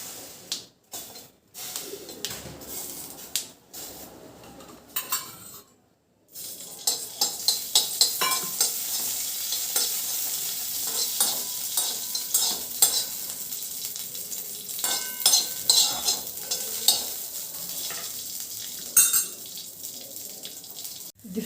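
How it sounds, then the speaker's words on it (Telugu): Four chillies frying in a pan for methi dal, a crackling sizzle punctuated by frequent sharp pops and spatula scrapes, close and moderately loud after a few quieter, broken opening seconds. "కోసం అండి 4 చిల్లీస్ ఫ్రై చేసుకుందాం."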